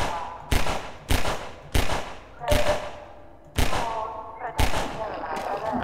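Pistol shots in the video game Half-Life 2, seven sharp cracks at irregular intervals about half a second to a second apart, loud and close, each followed by a short echoing tail.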